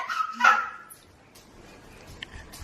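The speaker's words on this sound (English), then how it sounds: "You don't love him when he barks, do you?" A pet dog gives one sharp, loud bark close by, followed by a quieter room with faint small sounds trailing off.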